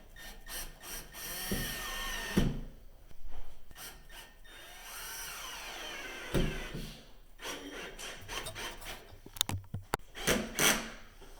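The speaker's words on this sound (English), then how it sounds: "you want to push hard on the drill because the bit will pop out" A power drill whirs in short bursts while driving a screw into wood, with scraping and clunking handling noises between runs.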